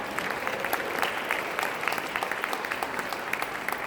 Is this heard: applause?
yes